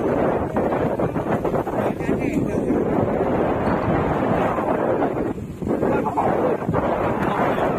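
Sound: wind blowing on a fishing boat at sea

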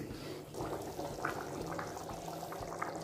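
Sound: black-eyed bean stew simmering in a pot

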